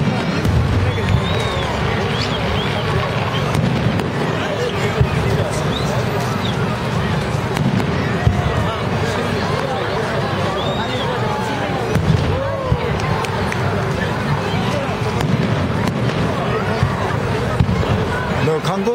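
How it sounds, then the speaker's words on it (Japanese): A long run of fireworks at a Japanese town festival popping and crackling continuously, with steady booms scattered through a dense noisy background and voices talking nearby. "おーすごい 長いね、花火。"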